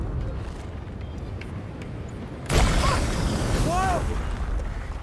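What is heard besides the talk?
cannon firing Greek fire in video game A Plague Tale Requiem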